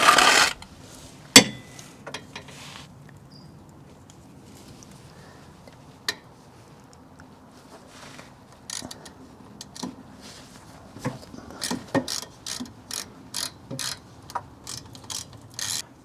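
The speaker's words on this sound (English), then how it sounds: "here are the two little tiny bolts that you can take out, which holds both brake lines to that rear trailing arm" A ratchet clicks in short bursts while loosening small brake line bracket bolts on the rear trailing arm of a BMW E36. It is close and dry, with metal clinks and a sharp clank near the start, and nobody speaks.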